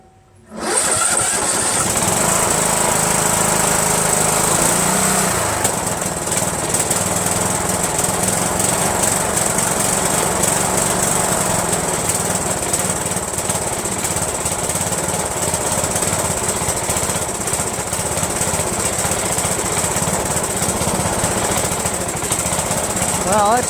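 A Yard Machines 1742 lawn tractor engine starts and runs roughly with a faulty carburetor, a loud, steady, sputtering drone close by that continues unbroken after the start.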